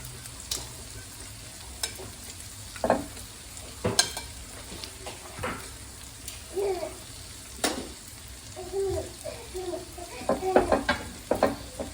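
Vegetables for jugged hare sizzle in a hot pan while a utensil stirs and scrapes intermittently, with occasional quiet speech underneath.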